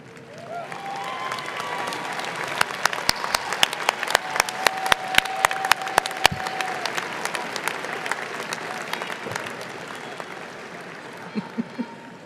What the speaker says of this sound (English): I'd like to ask all our graduates to stand and give a round of applause to those who have supported you